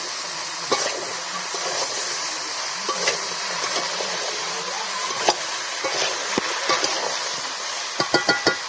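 Shrimp chorchori with radish is being sautéed in a pan, giving a steady close hiss and sizzle. Sharp clinks of a stirring utensil against the pan grow frequent near the end.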